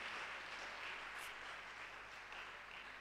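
A church congregation claps together in steady, dense applause that fills the room at a moderate level and holds evenly with no voices.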